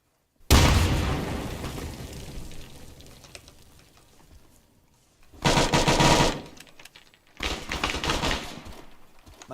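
In the military shooter Arma 3, a loud grenade blast erupts during a training breach and decays slowly, followed by two separate bursts of rapid gunfire, each close and harsh, with no talk over them.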